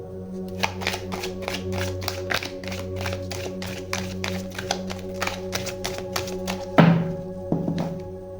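Tarot cards being shuffled and drawn by hand, a rapid run of close, crisp taps and flicks at a steady rhythm, followed by a louder slap as a card is set down, with no talking.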